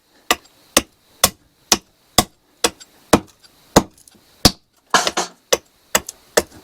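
A spoon carver's adze chops into wood in sharp, evenly spaced strikes, about a dozen close and loud blows in steady rhythm with a brief scrape in between.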